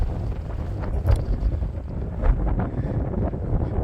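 Gusty wind buffets the microphone across a wide open meadow at Big Meadows, a constant low rumble with sharper gusts swelling and fading, and no voices.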